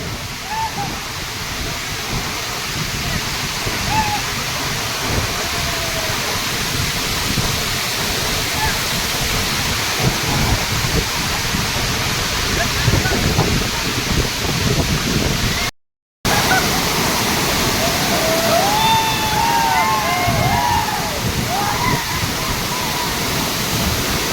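Savatkada waterfall in Rajapur taluka roars as a dense, continuous rush of falling water. The sound stays loud and steady nearby, with a brief dropout and faint high chirps over the roar.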